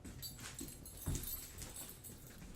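A dog at home at night gives one short, sharp bark-like burst partway through, set against quiet low background noise.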